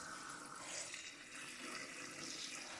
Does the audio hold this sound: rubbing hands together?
no